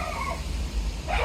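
A cat meows angrily in two short, strained cries, one at the start and one at the end, over a steady low background rumble.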